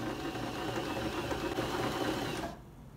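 A freshly oiled sewing machine runs steadily with a dense, continuous motor whir and rapid needle chatter, fairly loud and close, then cuts off abruptly near the end, leaving quiet room tone.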